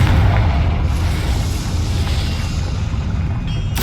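A Confringo fire spell explodes in the Hogwarts Legacy video game, a loud, sustained booming blast with a deep rumbling roar that fills the whole moment and ends in a brief crackling flare.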